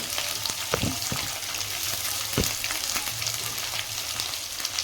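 Green chillies and onions fry in a pan with a continuous close hiss of hot oil, broken by a few sharp clinks and stirring knocks, with no voices.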